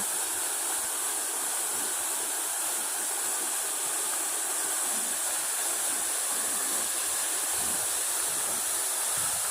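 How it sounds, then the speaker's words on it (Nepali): Bagne waterfall in Resunga municipality, Nepal, roars in a steady, dense rush of falling water, loud and continuous without a break, with no voices heard over it. "उद्गम रहेको यस वाग्ने झरना रेसुङ्गा नगरपालिकाको यस क्षेत्रबाट अवलोकन गर्न सकिनेछ"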